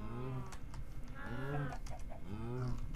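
Minecraft farm animals, pigs and chickens, make short repeated cartoonish grunts and clucks in quick succession, close and fairly loud, with no talking.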